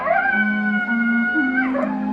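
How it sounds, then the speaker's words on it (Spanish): A coyote howls in a long, wavering, drawn-out cry that rises, holds and bends in pitch, clear and fairly close, heard alone without speech. "Solo se oye el aullido del coyote."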